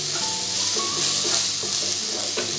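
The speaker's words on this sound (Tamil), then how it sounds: "வெங்காயம் நல்லா வதங்கிருச்சுங்க." Onions sizzle steadily in hot oil for an Andhra-style chicken curry, a continuous bright frying hiss with small crackles and pops, close and alone, with no talk.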